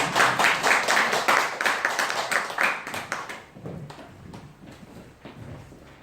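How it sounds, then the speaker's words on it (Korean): A church congregation claps in a brisk, even rhythm to welcome a pastor, loud and close at first before thinning and fading out after about three seconds. "우리 박수로 환영하겠습니다."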